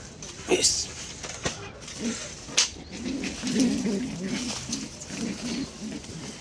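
Pigeons kept by a fancier in Keraniganj, Bangladesh, give soft low cooing bursts in the middle of the stretch, close and moderately loud, with a few sharp clicks and handling noises around them.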